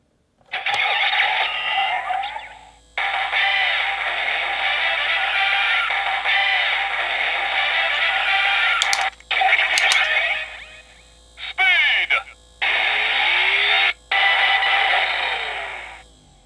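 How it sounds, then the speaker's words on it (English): A DX Drive Driver toy transformation belt plays its secondary attack sound effect: loud electronic music and effects run steadily for several seconds, then break into a string of shorter bursts separated by brief silences. "There's a secondary effect used for attacks in the show when you hit the lever again."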